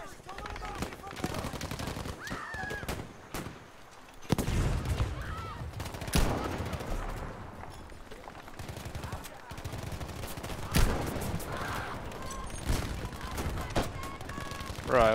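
Close machine gun fire and scattered gunshots from Battlefield V's Breakthrough mode in Provence, rattling in dense bursts with heavy booms, heard under voice chat from the players.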